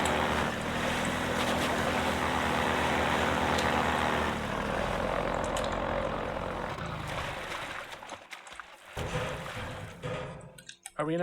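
A combat helicopter in the video game Half-Life 2 drones loudly and steadily with a rotor roar, then fades and breaks up near the end.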